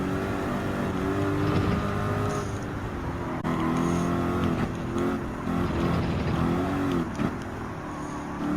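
Race cars roar around Deep Forest Raceway in Gran Turismo 7 during a Manufacturers Cup exhibition race, a steady layered engine drone that rises and falls slightly with revs, continuous and close throughout.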